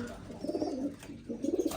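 Hungry pigeons coo in low, throaty rolling bursts before feeding, two clusters of calls close by with a short lull between them.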